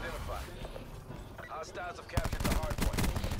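Rapid gunfire bursts in the multiplayer shooter Black Ops 4 crack in during the second half, following a stretch of excited player chatter.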